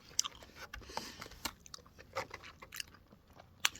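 Someone bites into and chews durian, with soft close-up crunchy bites and wet chewing sounds spaced irregularly, fairly quiet and without speech.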